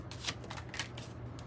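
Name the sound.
shuffling tarot cards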